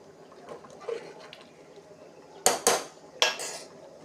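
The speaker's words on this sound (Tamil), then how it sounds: "வெயிட் போட்டு மூடிடலாம்" Metal clanks of a pressure cooker lid and weight being set on: a few sharp, loud knocks in quick succession after soft quiet bubbling and shuffling of green peas kurma.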